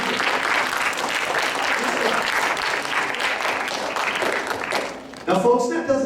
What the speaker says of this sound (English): give yourselves a round of applause then